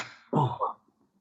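A single short cough, close and fairly soft, a rough two-part burst followed by quiet.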